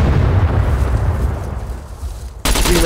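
A loud, rumbling explosion from a grenade launcher in the video game SCUM booms and fades over a couple of seconds, then a sharp new burst cuts in abruptly at the end.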